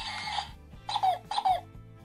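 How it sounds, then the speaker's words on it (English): A Mickey Mouse toy camera plays its electronic picture-taking sound. A short tonal burst is followed by two chirpy bursts with a falling pitch, heard close and with no talking. "So that's the sound of actually taking the picture,"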